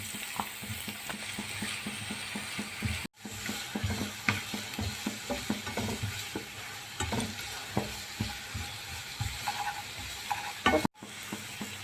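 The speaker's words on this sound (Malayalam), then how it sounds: "ഇനി നമുക്കിതിലേക്ക് ഉള്ളിടാം. നന്നായി ഒന്ന് വഴറ്റിയെടുക്കാം." Sliced onions stirred and sautéing in hot oil in a pan, with steady scraping stir strokes and a soft continuous sizzle underneath, close and moderately loud with no talking.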